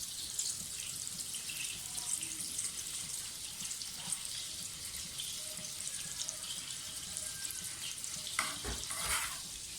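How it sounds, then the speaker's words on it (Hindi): Butter and oil melting together in a pan for namkeen gosht, giving a steady, even sizzle and hiss throughout, with occasional faint stirring scrapes near the end. "मक्खन को और ऑयल को अच्छी तरह से मिक्स होने दें आपस में"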